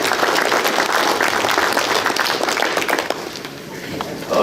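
An audience at a cover crop management talk applauds, with loud, dense clapping from a crowd that holds steady throughout and eases slightly near the end.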